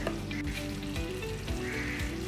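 Turmeric powder being stirred into adobo with coconut milk and pepper as it fries, giving a steady close sizzle with soft scraping stirs throughout.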